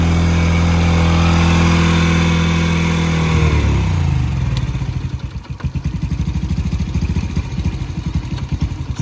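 A Honda TRX90X ATV engine idles with the choke off, a loud close putter that shifts partway through into a rougher, faster pulsing idle and carries on steadily without any talk.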